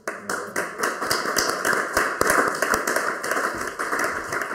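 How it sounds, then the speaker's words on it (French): Audience applause after a conversation on mapping, steady dense clapping throughout, moderately loud and close, with no voices over it. "on peut l'applaudir"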